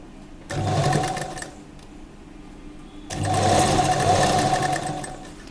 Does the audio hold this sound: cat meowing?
no